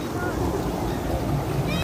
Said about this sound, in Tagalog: Lakas ng alon, so.